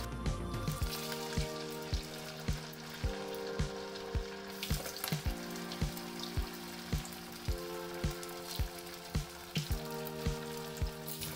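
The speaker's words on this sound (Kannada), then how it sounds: "ಈ ವಡಾನೆಲ್ಲ ಡೀಪ್ ಫ್ರೈ ಮಾಡಬೇಕಾಗತ್ತೆ।" Sabudana vada deep frying in hot oil, a constant fizzing sizzle close by, with steady tonal hum and regular sharp clicks or taps recurring about every half second throughout.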